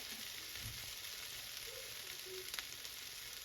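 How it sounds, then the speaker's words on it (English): Potatoes sauté in a pan with salt and pepper, giving a steady, quiet sizzle and frying hiss with a few faint clicks and stirring scrapes, with no voices. "and just start sauteing them"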